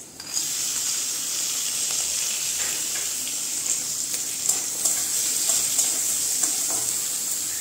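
Chicken pieces sizzling and frying in a pan with onion and garlic, a loud continuous hissing crackle with occasional sputters throughout.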